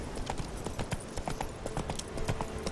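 A horse in The Witcher 3 gallops with a quick, rhythmic clip-clop of hooves, steady and fairly close, carrying on for a few seconds without speech.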